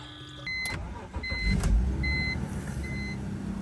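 A BMW E46 car engine idles steadily close by, a low, even rumble while it warms up, with faint electronic beeps chiming over it.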